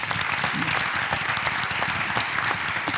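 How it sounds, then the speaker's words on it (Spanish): A studio audience at a televised interview claps in a steady, dense round of applause, fairly close and even in level, with no voices over it. "un aplauso para ellos"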